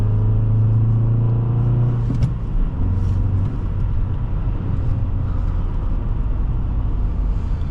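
A 2008 Nissan Altima 2.5 S sedan with a six-speed manual gearbox gains speed, its engine a loud, steady rumbling drone heard from inside the cabin, with a brief rising note and a slight dip partway through.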